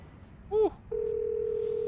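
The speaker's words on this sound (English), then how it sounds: "Oh, hold on. I'm getting a phone call." A telephone in an Elden Ring session sounds with a short rising chirp followed by a steady, sustained electronic tone, fairly quiet and clear against a low background hum.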